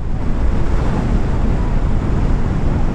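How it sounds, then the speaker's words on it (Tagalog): Strong wind roars and buffets continuously, with surf noise mixed in by the shore in Dingalan, Aurora; the gusts batter the microphone throughout. "Grabe, lakas ng hangin."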